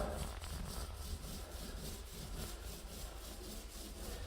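Decorative Lava FEIDAL plaster spread on a bedroom wall with a trowel, a quiet rhythmic scraping and rubbing repeated in even strokes, faint and close.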